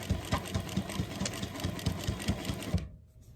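A sewing machine back-stitches a tote bag in a fast, rhythmic mechanical chatter for nearly three seconds, then stops abruptly, leaving near silence.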